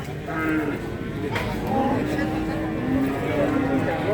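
A Limousin cross cow moos at a cattle market, drawn-out lowing calls rising over a busy crowd, with people talking throughout.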